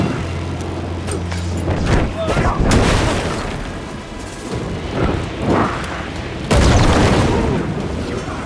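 Dark projectiles fired in the video game Alan Wake 2, heard as several heavy booming bursts and whooshes spread through the clip, with a strong blast near the end and rumbling background between impacts.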